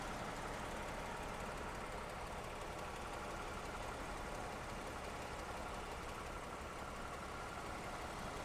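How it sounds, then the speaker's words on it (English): A steady, low engine idle from a 2012 Toyota Avalon Limited hums evenly throughout, smooth and unchanging with no revving. "Very, very quiet running engine."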